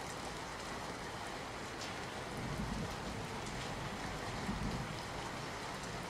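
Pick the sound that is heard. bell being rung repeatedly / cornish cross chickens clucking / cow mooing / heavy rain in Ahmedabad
heavy rain in Ahmedabad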